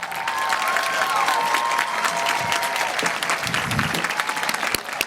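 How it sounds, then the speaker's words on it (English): Audience applause at a high school graduation ceremony, a dense, steady wash of clapping from a large crowd that holds at full strength for about five seconds, with a few faint tonal voices or whistles early on. "Let's give them a round of applause as well."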